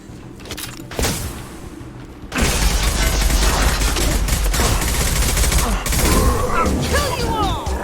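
Rapid gunfire in the game Mass Effect 2, dense bursts of shots and mechanical clatter during combat, loud and sustained with game voices shouting over it.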